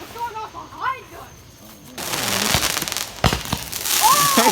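Fireworks going off outdoors at night, a burst of crackling and sharp pops with a few louder bangs, following people talking nearby.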